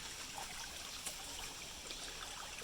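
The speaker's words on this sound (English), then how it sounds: "Look at all this water coming out." Water flows out of a large, partly blocked culvert pipe in a steady, soft rushing trickle, continuous and even, with faint splashy detail on top.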